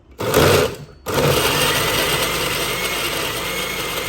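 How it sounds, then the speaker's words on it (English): A kitchen blender grinds ginger with water, a loud steady motor whir that starts briefly, cuts out, then restarts and runs continuously up close. "So now we're going to add 1 cup of water in the blender with the ginger."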